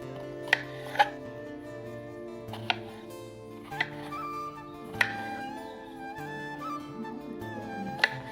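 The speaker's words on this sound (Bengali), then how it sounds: "চলুন তাহলে ঝিঙে দুটোকে কেটে নিই।" A knife chops peeled ridge gourd on a board in a home kitchen, with a handful of sharp, scattered knocks over soft sustained background music.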